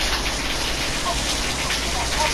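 Steady rain pattering down in a dense, even hiss, continuous and moderately loud throughout.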